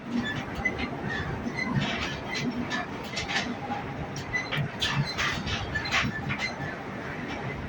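Steady rumble and clatter of a Southeastern train running along the rails, heard from inside, continuous throughout at moderate level with faint scattered squeaks.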